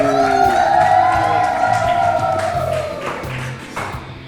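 A studio audience at a children's television show claps and cheers for two young kids, busy clapping with shouts and whoops, while a bright sung or musical tone carries over it before fading.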